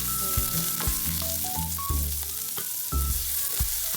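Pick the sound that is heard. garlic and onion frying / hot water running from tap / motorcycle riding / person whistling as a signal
garlic and onion frying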